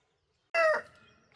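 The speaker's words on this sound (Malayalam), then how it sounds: "കുറച്ച് കോഴികൾ നമ്മളെ മുറ്റത്ത് വന്നിട്ടുണ്ടേ" A single loud rooster crow starts abruptly after a moment of silence, then trails off into a fainter, rougher tail.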